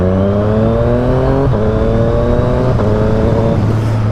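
A Yamaha FZ-09 motorcycle pulls hard under steady, loud acceleration, its engine note climbing and snapping down a few times as the quick shifter clicks through quick upshifts.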